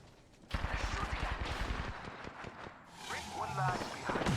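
Rapid bursts of automatic gunfire in the battle royale video game Apex Legends, loud and near, firing in a quick rhythmic string, then scattered shots and effects with a voice speaking over them.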